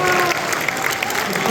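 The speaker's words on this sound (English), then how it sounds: "Inshallah, applause, guys." A crowd at an evening event in Chicago with UFC lightweight champion Khabib Nurmagomedov applauds, a dense, steady wash of clapping filling the short moment.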